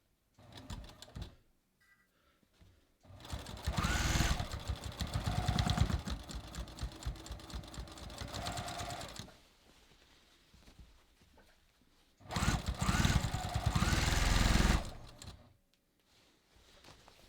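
A sewing machine stitching a jeans seam runs in two bursts of rapid, even needle clatter, separated and bracketed by quiet pauses and faint handling noise.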